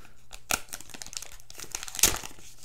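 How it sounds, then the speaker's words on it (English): Plastic wrapping crinkles and tears as it is peeled off a new HTC One M8 phone, close and up front, with two sharper ripping bursts among the rustling. "Let's go ahead and take this weird wrapping thing off right here."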